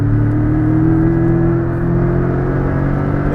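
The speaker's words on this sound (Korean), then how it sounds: "지금 스포츠 모드에서 좀 더 적극적으로 어택을 한번 해보겠습니다." A Porsche 718 Boxster S in sport mode accelerates hard, its engine giving a loud, steady droning rumble with a sustained tone close to the microphone.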